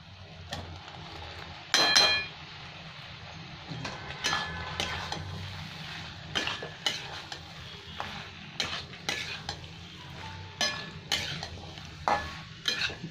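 Jackfruit and potatoes fry together in a pan with a low, steady sizzle, broken by frequent sharp clinks and scrapes of a utensil stirring against the metal; the loudest clatter comes near the start.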